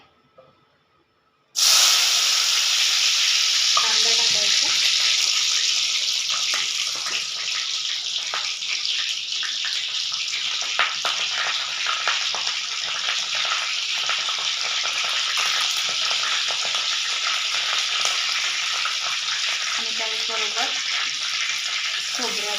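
Oil heating and sizzling in a pan for a dhaba-style vegetable curry cooked at home, a loud steady hiss that starts abruptly and runs continuously, with brief stirring scrapes and faint speech in the background.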